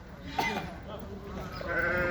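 Romanov sheep and lambs at a small livestock market bleat over a dense murmur of crowd talk and general market noise, the calls mid-distance and partly masked.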